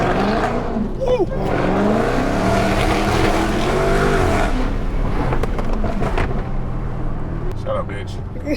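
A high-horsepower car sliding and drifting, loud engine roar with tire squeal rising and falling over several seconds, while people talk and shout over it.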